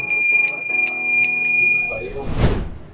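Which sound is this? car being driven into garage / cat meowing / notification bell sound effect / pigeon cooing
notification bell sound effect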